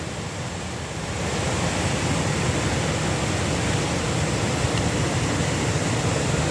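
A loud, constant roar of rushing high floodwater in a rain-swollen river after Typhoon Opong, in Barangay Nagba, a broad steady wash with no pauses, surging past close by.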